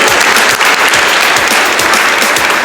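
Big, loud round of applause from an audience at a polytechnic college annual day celebration, dense steady clapping from many hands filling the whole stretch without pause.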